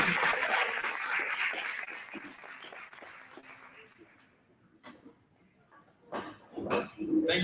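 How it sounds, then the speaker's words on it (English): At a business workshop in Mitchells Plain, an audience claps loudly. The applause fades away over several seconds and is followed by quieter scattered sounds and a few brief voices. "Give yourselves a round of applause"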